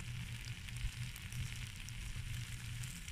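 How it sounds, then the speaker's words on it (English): Steady, soft sizzling of bacon frying in a pan on a portable wood-burning stove outdoors in the rain, a continuous crackly hiss with faint pops and a low rumble underneath. "Getting a bit of sizzle on."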